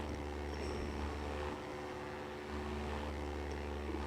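Propeller airplane engine in the Minecraft FlansMod mod, a steady loud droning hum with a brief dip in intensity midway before resuming.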